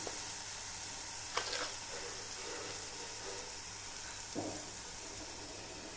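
A ground paste of green chili, garlic and salt frying in hot oil for an eggplant bharit gives a steady, soft sizzle with two brief sharper splutters, as if stirred, and no talking.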